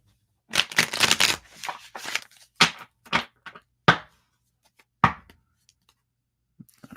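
Playing cards are riffled and bridged in quick bursts, followed by several separate snapping shuffles spaced about a second apart, close and crisp in a quiet room.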